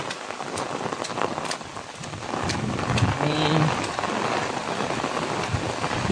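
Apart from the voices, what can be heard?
rain showers falling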